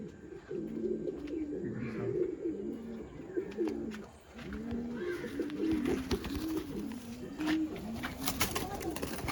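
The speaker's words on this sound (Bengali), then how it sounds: "খুব সুন্দর পায়রা একটা" Pigeons coo in a steady run of low, rounded, repeating calls from a loft at a pigeon show and sale, several birds overlapping close by, with faint background noise and no clear talk.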